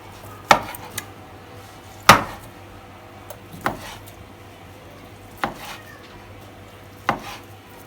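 A knife chops through cheese onto a board in about six separate knocks, unevenly spaced, close by with quiet room tone between.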